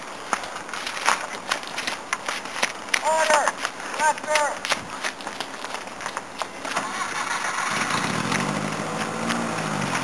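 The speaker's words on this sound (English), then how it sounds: "Testing the steam engine, take one, 1876." An 1876 steam engine being tested, heard as mechanical engine noise that builds into a loud, steady churning rumble over the last couple of seconds, with brief voices and clatter earlier.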